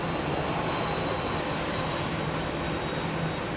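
A Boeing 787 Dreamliner airliner landing at London Heathrow, its engines a steady, broad roar heard from a distance with a faint low hum running underneath, unbroken throughout.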